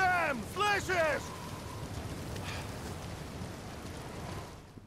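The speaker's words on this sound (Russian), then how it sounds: "У тебя сейчас такой грохот от ливня, что вряд ли." Heavy downpour in the video game Uncharted 4, a steady dense hiss of rain that runs throughout, with a voice talking briefly near the start.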